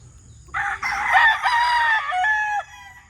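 A gamecock stag crows once, loud and close, a drawn-out rising and falling call lasting about two seconds, with a quiet outdoor background before and after.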